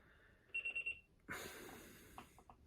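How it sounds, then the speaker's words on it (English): A phone alarm sounds a short burst of repeated electronic beeps, fairly faint, then a rustle and a quick snort or breath follow as it is silenced. "Sorry, that was supposed to be my alarm."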